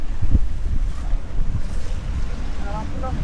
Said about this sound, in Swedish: Det blåser en hel del och det ska blåsa ännu mer.